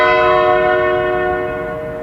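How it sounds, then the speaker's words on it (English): The Tower of London clock bell strikes while chiming ten o'clock. A single loud, resonant stroke rings out and slowly fades, with no voices. "the clock chimes 10."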